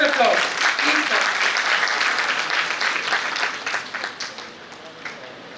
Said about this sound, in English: please welcome Mr. 𝓜𝓸𝓻𝓮 sir with a huge round of applause